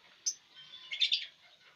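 Lovebirds kept in a colony cage give a brief sharp chirp, then a short cluster of twittering calls, close and fairly clear against a quiet background.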